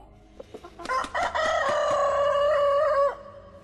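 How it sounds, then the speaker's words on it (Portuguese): A rooster crows once, loud and close, a long strained call held for about two seconds, preceded by a few faint clucks. "E logo em seguida veio o canto do galo."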